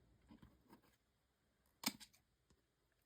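Scissors snip a bias along paper album bindings for a hedgehog-themed mini album, a few soft, close cuts followed by one sharper snap and a faint later click.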